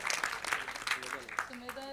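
Audience applause at a Bollywood song launch event for the lyricist, steady clapping mixed with a voice talking over it and music starting faintly underneath.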